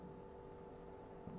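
Chalk or marker scratching across a board during a chemistry lecture on zero-order reactions, a soft continuous writing sound heard alone and close, with no talk over it.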